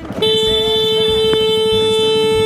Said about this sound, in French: J'ai quand même mis 10 minutes à trouver le klaxon.